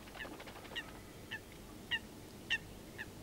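Eurasian coots fighting on open water, giving a series of short, sharp honking calls, about six separate yelps spaced roughly half a second apart over a low background murmur.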